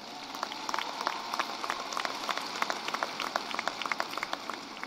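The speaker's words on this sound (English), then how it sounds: "Give yourselves a round of applause" A commencement ceremony crowd applauds, dense, steady clapping from many hands filling the hall at moderate volume, sustained throughout with no voices over it.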